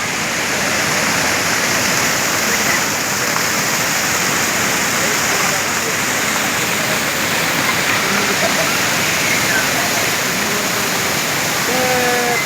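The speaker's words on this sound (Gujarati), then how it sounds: "આ પહાડોમાંથી ઝરણા નીકળે છે ભાઈ." A mountain waterfall stream pours from the hills near Mussoorie in Uttarakhand, giving a steady, dense, loud rushing roar of water that holds constant throughout.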